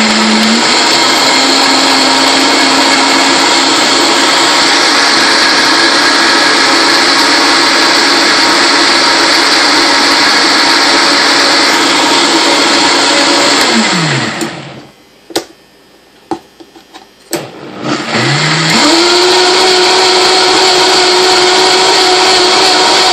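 A Vitamix blender runs loud and steady on oranges and strawberries, winds down to a brief stop, then spins back up to full speed with a sustained high whine.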